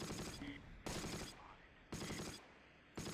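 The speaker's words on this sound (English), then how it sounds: "I'm hearing grenades go off." Grenade blasts and gunfire in the World War II strategy game Close Combat: The Longest Day come as three sharp, loud bursts, each trailing off into crackling rumble before the next.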